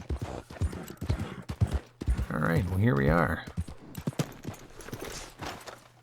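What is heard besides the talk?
horse hooves galloping in video game Red Dead Online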